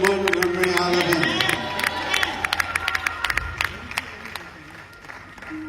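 Cheering and clapping from a crowd at a live gospel concert in Montgomery, Alabama, starting amid voices and a held musical tone, then giving way to scattered sharp claps that continue at a moderate level.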